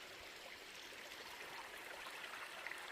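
Creek water flowing along a mountain trail, a faint, steady rushing murmur that continues without a break, with no voices over it.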